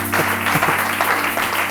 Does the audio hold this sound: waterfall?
no